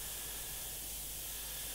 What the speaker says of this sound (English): And again, extremely careful as to where I'm spraying it.